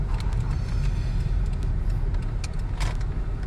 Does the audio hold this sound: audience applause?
no